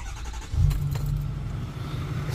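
Old Ford F-250 pickup truck engine idling with a steady low rumble, a slight surge in loudness early on, then a continuous even drone throughout.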